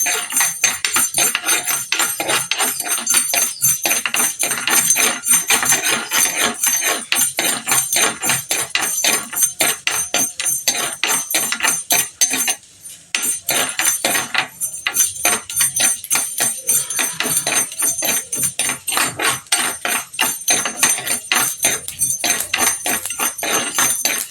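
Mustard seeds and fenugreek frying in hot oil while making prawn pickle, a dense, steady crackle of rapid popping and sizzling that runs almost unbroken and close up, with no one talking.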